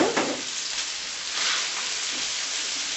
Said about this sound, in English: so it'll hold its texture in this as it cooks in the skillet